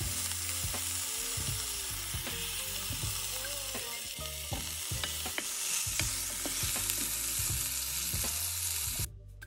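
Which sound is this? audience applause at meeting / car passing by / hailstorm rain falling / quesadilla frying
quesadilla frying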